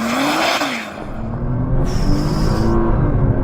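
A Nissan GT-R launching hard, its engine rising in pitch with a loud, close roar and tire-spinning whir, then a brief dip before a sustained high-revving surge as the car accelerates.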